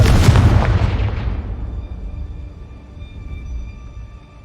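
A Confringo blasting spell from Hogwarts Legacy erupts in one loud, close booming blast, then rumbles and fades away over several seconds with a faint lingering ring.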